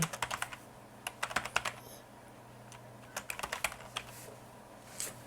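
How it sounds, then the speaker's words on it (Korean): Bursts of typing on a computer keyboard while entering subtitle text in an editing program, with quick clusters of key clicks separated by pauses over a steady low hum. "이 텍스트를 여기다 올려서 마음껏 자신이 원하는 대로 타이핑 하시면 되겠습니다"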